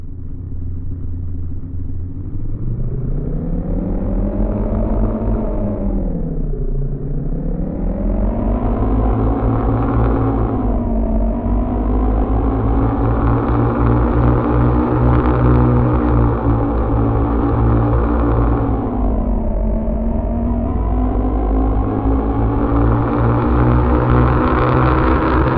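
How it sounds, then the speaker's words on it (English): A synthetic futuristic motor tone from the AudioMotors V2 Pro plugin. It is loud and continuous, its pitch rising and dipping in repeated sweeps like revving, and the layered rumbling harmonics run for the whole stretch with no voices. "AudioMotors can help you design groundbreaking futuristic motor sounds."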